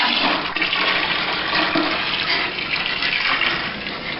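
Dissolved sugar syrup poured from a pan into a container for making pear wine, a loud continuous rushing, splashing pour that runs steadily throughout.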